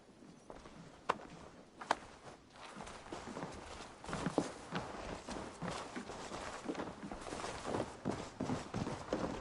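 Horses run across ground in Assassin's Creed Valhalla, a steady patter of hoofbeats that builds and thickens over several seconds, with a few sharper thumps and no talk.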